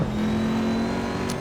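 Corvette C7R GTE race car engine in Assetto Corsa at the Nürburgring, a loud, steady high-speed drone held at constant pitch down a straightaway, with no talk.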